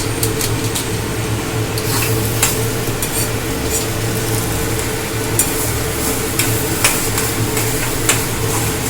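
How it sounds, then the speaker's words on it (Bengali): Soybean kofta mixture with biryani masala sizzles in a pan while being stirred, a loud, dense, continuous frying hiss with light scraping and tapping accents throughout, no voices. "এবার কিন্তু সয়াবিনটা আমার কষা হয়ে এসছে।"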